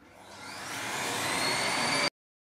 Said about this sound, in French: on peut lancer le dépoussiérage à ce niveau-là